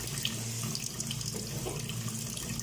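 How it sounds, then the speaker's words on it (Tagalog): Tap water runs steadily into a cooking vessel in a home kitchen, a close, even splashing hiss with a low hum underneath and no talk. "Lagyan natin ng tubig ang ating vessel"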